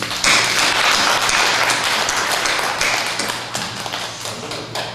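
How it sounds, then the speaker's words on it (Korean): A church congregation breaks into a burst of loud, dense clapping that swells at once and slowly thins out over several seconds. "결의하는 박수 한번 해주시기 바랍니다."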